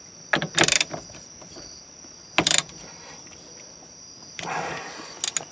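A steering wheel nut is tightened during a steering wheel install, heard as short bursts of close metallic ratcheting clicks in three separate spurts, with a faint steady whine running underneath.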